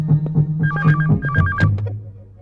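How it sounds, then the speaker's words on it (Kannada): A telephone rings with a repeated warbling electronic tone, several bursts in quick succession over a low hum, fading out toward the end. "ಫೋನು"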